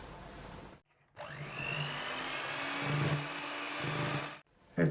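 An electric mixer beats dissolved coffee into cake batter for a coffee and walnut cake, a steady loud motor whir with a brief stop near the start before it runs on evenly.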